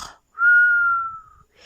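A voice imitates a snore followed by a single long, steady whistle lasting about a second, close and clear against near silence.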